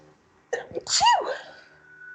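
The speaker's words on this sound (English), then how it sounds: "I'm doing like polite vampire sneezes." A few quick, stifled sneezes, close and soft, tight and restrained, with no other sound around them.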